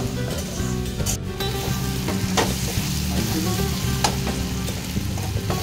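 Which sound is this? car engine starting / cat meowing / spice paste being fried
spice paste being fried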